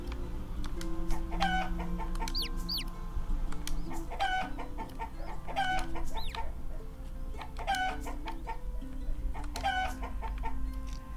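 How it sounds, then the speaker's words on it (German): Chickens in the farming video game Summer in Mara cluck in repeated short bursts roughly every two seconds, close and clear over a steady looping background music bed. "jetzt werde ich mal gucken, wie viel Hühner ich noch füttern kann"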